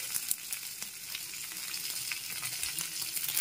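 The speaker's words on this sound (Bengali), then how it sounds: "এবার আমগুলো দিয়ে দিচ্ছি। একটু নেড়ে চেড়ে নিচ্ছি আমার টুকরোগুলোকে।" Raw mango pieces hit a hot tempering in a pan, giving a bright, continuous hiss of frying under a few soft stirring knocks, close and even in level with no voices.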